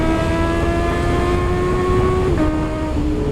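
Honda CB650R motorcycle engine while riding in Dingalan, Aurora: a loud, steady engine drone holding an even pitch throughout, with a brief dip and shift in tone near the end as the revs change.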